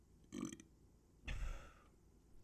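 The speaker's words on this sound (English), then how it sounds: "That was like a really disgusting sounding burp." A single close, throaty burp, heard as two short, croaky bursts separated by a brief pause against an otherwise quiet background.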